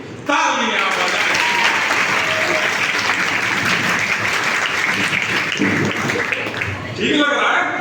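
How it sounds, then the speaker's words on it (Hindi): A large audience of girls claps loudly and steadily for several seconds in a dense burst of applause, with a voice speaking briefly at the start and again at the end. "जोरदार ढंग से तालियां बजाएं"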